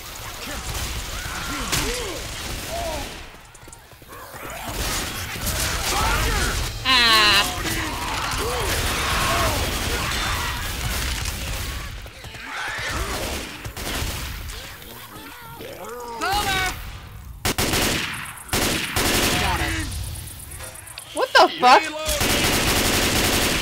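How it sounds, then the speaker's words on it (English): Gunfire and a Boomer exploding in Left 4 Dead 2, with repeated bursts of shots, clicks and mechanical weapon sounds scattered through a busy game mix, with voices talking over parts of it. "I shot the boomer, it exploded, and then the gas can came flying back up towards me."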